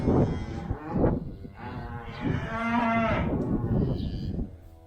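Cattle on a farm during calving season moo repeatedly and loudly across the whole stretch, several long drawn-out calls overlapping at close range with no talk.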